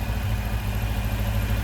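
A Volkswagen 2021cc stroker engine running during break-in, a steady, loud low rumble with an even idle pulse throughout, nearby and without talk.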